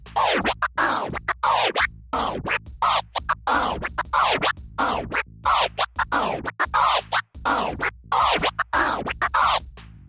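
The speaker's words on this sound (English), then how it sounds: "You could also perform combinations of the 1-click flare and then a 2-click flare," Crossfader scratching on a DDJ controller alternating one-click and two-click flare patterns, a steady run of loud, chopped, stuttering record bursts in tight rhythm with no voice over it.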